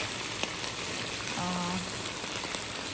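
Salmon fries skin side down in a pan with a steady, dense sizzle and crackle that runs the whole time, with a brief faint tone partway through.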